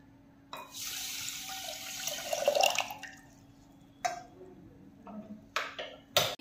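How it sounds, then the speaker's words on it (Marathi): Water poured into sugar in a pan for khoa gulab jamun syrup, heard as a few close, splashy bursts of pouring separated by short pauses, with light clinks and no speech. "आणि आपण जेवढी साखर घेतली तेवढंच आपल्याला पाणी घ्यायचं आहे।"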